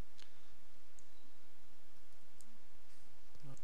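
Computer mouse clicking during data import in OpenERP V6 software, a few faint, sharp isolated clicks spaced irregularly over a low steady background hum.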